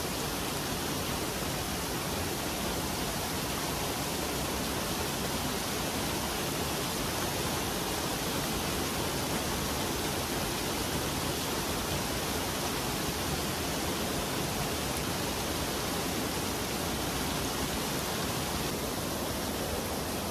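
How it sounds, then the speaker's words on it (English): A waterfall at Worlds End State Park roars as a steady, dense rush of falling water, continuous and loud throughout with no voices. "we are saying goodbye to our waterfall"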